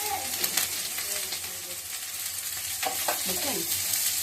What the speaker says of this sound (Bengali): পেঁয়াজের কাঁচা লঙ্কা আছে না এটা ছেড়ে দেবো এটা একটু বাজা বাজা হয়ে যাক